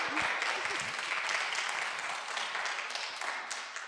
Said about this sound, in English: Give them a round of applause and welcome them to AU.